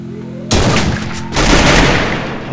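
Sniper rifle shots from an AW in the Free Fire video game, a sudden loud broadband blast followed by a second heavy report about a second later, with sustained noisy rumble between and after.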